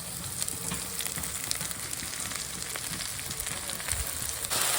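Onions and drumstick leaves fry in a pan for a Telugu drumstick-leaf egg fry, giving a steady, close, dense sizzle with faint stirring scrapes and no talking throughout.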